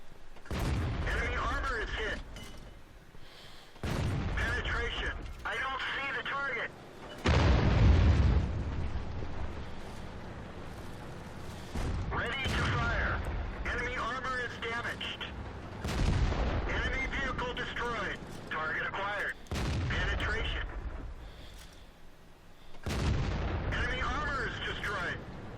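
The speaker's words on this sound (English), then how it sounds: "Ready to fire. Enemy armor is hit. Penetration." Tank cannon fire from a Jagpanzer IV in World of Tanks on the Fisherman's Bay map, heard as several loud booming shots with rumbling tails spaced through the game, under voiced in-game crew announcements and music.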